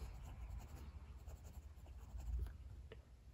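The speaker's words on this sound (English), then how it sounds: "Let's do a writing sample and see how we go." A Moonman T1 fountain pen with a fine 0.5 steel nib and Monteverde Copper ink scratches softly across paper in quiet, close strokes, ending in a small click.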